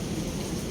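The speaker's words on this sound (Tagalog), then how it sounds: "Lakas po ng kulog." Loud, continuous rumble of thunder with rain during a storm outdoors near a seaside mall, a dense low roar filling the short moment with no voices.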